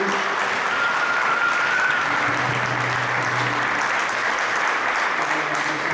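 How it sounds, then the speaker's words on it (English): Loud, sustained applause from a crowd at an ISKCON lecture, steady and dense throughout, with a faint voice briefly audible beneath it. "let's do a big round of applause"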